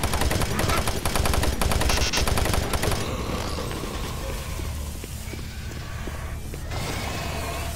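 Automated turret guns in DOOM 3 fire a rapid, steady mechanical stream for the first few seconds, then give way to quieter ambient hum and scattered distant clanks.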